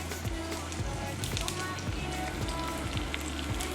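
Chorizo fries in oil in a pan with a constant dense sizzle and crackle, close and fairly loud, with irregular pops and a low steady hum underneath.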